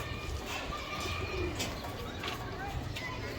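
Racer pigeons coo softly in a loft, low murmuring calls with faint chirps, close by and under a voice.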